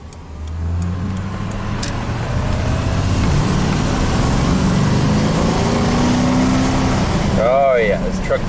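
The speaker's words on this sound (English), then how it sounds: "Let's hear this Chevy Thunder." Engine of a 1996 Chevy K2500 V8 pickup that runs lean, rumbling loudly and steadily up close with a deep idle that swells slightly as the throttle opens, with a brief squeal near the end.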